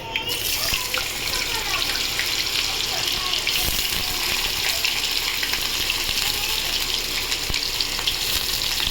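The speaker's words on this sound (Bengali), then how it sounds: "এটা এবারে এই তেলের মধ্যে দিয়ে দেবো।" Loud, steady sizzling of thinly cut potatoes frying in hot oil, crackling without pause throughout.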